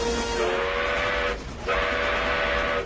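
A steam train whistle in the film Back to the Future Part III blows two long, loud blasts with a brief pause between them over a low rumble.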